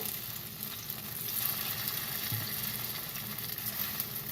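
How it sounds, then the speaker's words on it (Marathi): Sabudana vadas fry in oil on a low gas flame, giving a continuous, even sizzle that holds steady throughout with no talking. "हे वडे आतून चांगले शिजले पाहिजे. म्हणून त्याला असं चांगलं बारीक गॅसवर ठेवून द्यायचं."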